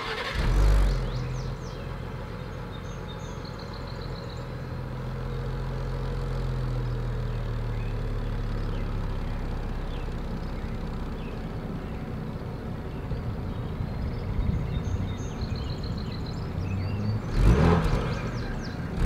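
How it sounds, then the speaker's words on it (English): A 2020 Ford Explorer ST with a dual exhaust and quad chrome tips starts up with a sharp blip, then idles in a steady low rumble before a loud rev near the end. "As always, here is that exhaust clip."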